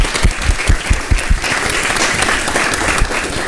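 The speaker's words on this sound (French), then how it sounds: "Ça mérite des applaudissements." A studio audience applauds on a live midday broadcast, a burst of brisk, loud clapping that thins into a scattered patter.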